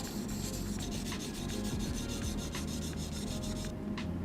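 A dagger-shaped knife blade is drawn across an abrasive sharpening stone, making a steady gritty rasping and rubbing with rhythmic strokes, close and continuous, with no voice.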